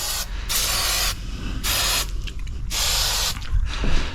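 Fluid Film rust protection sprays onto the pins of a John Deere X758 mower. Three close, loud aerosol bursts hiss, each lasting about half a second or more, with short pauses between.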